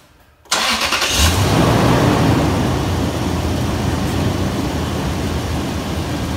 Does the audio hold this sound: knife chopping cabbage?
no